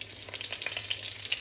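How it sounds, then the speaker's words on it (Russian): Chicken browning in a frying pan gives a steady close sizzle and spatter with soft crackles, and no voices are heard. "У меня тут уже дожаривается, подрумянивается курочка."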